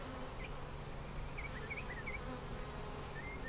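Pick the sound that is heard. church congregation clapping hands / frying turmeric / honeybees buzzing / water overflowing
honeybees buzzing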